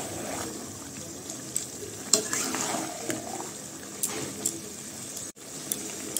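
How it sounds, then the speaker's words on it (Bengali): Chicken being stir-fried with spices in a pot in a dim home kitchen, a low steady sizzle under occasional spoon clinks and scrapes against the pot, fairly quiet and close. "তো মশলা দিয়ে কষাইতেছি"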